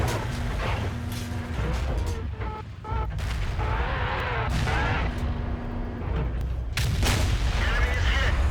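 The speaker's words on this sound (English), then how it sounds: "Ah, goddamn artillery." Artillery fire in the tank battle game World of Tanks, heavy booming blasts and explosive impacts recurring amid dense battle noise, with someone talking over much of it.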